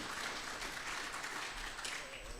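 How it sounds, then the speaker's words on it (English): Steady applause from a conference audience at a universities funding event in Kenya, a dense wash of clapping that holds evenly for a couple of seconds, fairly quiet and without any speech over it. "better clap, please."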